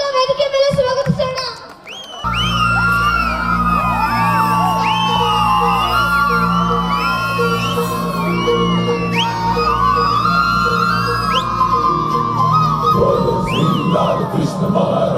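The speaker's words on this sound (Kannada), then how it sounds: "ಮುಕುಂದನ್ ಕರೀರಿ ಅವರನ್ನ ಚಪ್ಪಾಳೆ ಮೂಲಕ ವೇದಿಕೆ ಮೇಲೆ ಸ್ವಾಗತಿಸೋಣ" A school audience cheers, whoops and yells loudly as a dance team is welcomed onto the stage, with music playing under the crowd noise throughout.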